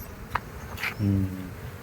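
A stingless bee drone buzzes past at a honey bee farm in Hatta, UAE. A brief, low droning hum swells for about a quarter second, with a few faint clicks and outdoor noise around it.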